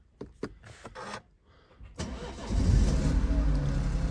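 A BMW 1 Series 116i, just fitted with new spark plugs, gives a few clicks before the starter cranks briefly. The engine then catches and settles into a loud, steady idle close by.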